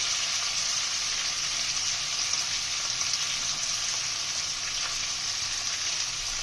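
Tomato with ground turmeric and cumin frying in a pan, giving a steady, bright, hissing sizzle at close range with faint stirring, and no one talking.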